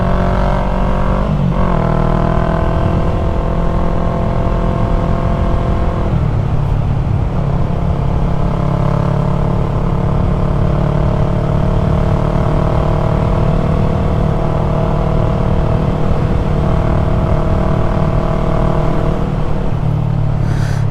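A Yamaha MT-03 motorcycle fitted with a new aftermarket exhaust rides along backroads, its engine droning loudly and continuously with rising and falling revs as it shifts gears, wind rush underneath and no talking.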